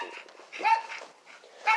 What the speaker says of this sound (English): There ain't nobody for her to be barking at, and she barking.